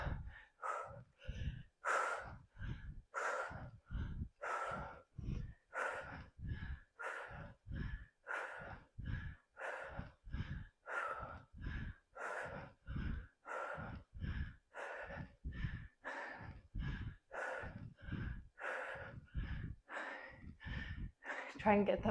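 Heavy rhythmic breathing during a quads and hamstrings leg workout, a steady run of sharp, loud exhales and inhales repeating about once a second, close and forceful, with a coach's voice talking over it.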